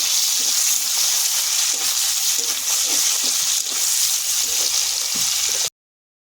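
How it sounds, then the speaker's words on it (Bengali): Onions frying in hot oil with whole cumin and dried chili for a fish curry with cauliflower and potato, a loud continuous sizzle with soft stirring knocks, heard close up and without talk, before it cuts off abruptly. "এবার তেল দেব জিরে গোটা জিরে আর শুকনো লঙ্কা এবার পেঁয়াজ"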